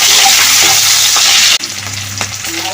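Slit green chillies frying with browned onions in a pan for tomato rice, a loud close hiss of sizzling oil that briefly drops and resumes with stirring clatter and scattered pops.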